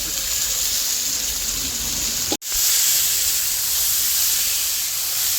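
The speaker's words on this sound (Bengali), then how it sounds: "মশলাটা কষাচ্ছি হয়ে গেছে চিংড়ি মাছটা দিয়ে দিচ্ছি" Prawns tipped into sizzling masala in a pan for prawn malai curry, a loud continuous hiss and crackle of frying that cuts out for an instant and then resumes just as strongly.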